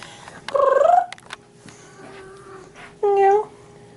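A pet cat in heat gives two loud, drawn-out meows a few seconds apart, with a low purr-like hum and faint room noise in between.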